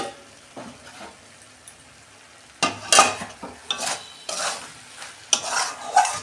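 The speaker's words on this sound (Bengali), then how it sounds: "দেখুন বন্ধুরা, ঢাকনা খুলছি" A lid comes off a pan of cabbage cooked covered over low gas without added water, with soft clatter, stirring scrapes and a gentle sizzle rising after a quiet start, no voices.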